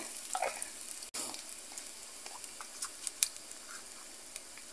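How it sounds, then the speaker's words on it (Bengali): Whole cumin seeds frying in hot oil for a mung dal tempering, a soft, steady sizzle with light crackles and a few sharp pops and clinks, close and fairly quiet. "গোটা জিরে ভালো করে ভেজে নেব।"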